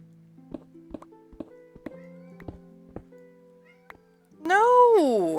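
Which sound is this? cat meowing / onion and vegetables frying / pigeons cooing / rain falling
cat meowing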